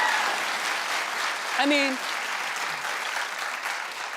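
Studio audience clapping through a talk-show segment about an actor leaving Fuller House, a steady broadband wash of applause running the whole time under someone talking, with a brief whistle-like cheer in the middle.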